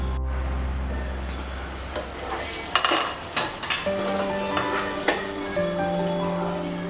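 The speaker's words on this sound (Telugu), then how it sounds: "ఒకసారి కలుపుకొని మూత పెట్టుకుని ఒక 15 మినిట్స్ లో ఫ్లేమ్లో ఉడికించుకుందాం." Andhra-style chicken fry sizzling steadily in a pan while a utensil stirs and scrapes, with a few clinks of metal against the pan, close and continuous with no talk.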